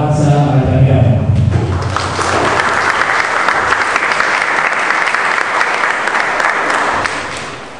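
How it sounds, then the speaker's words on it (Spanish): Strong audience applause greets a speaker at a lawyers' association lecture in Lima, swelling after a brief spoken introduction and holding as a loud, dense, close wash of clapping to the end. "Recibimos con un fuerte aplauso"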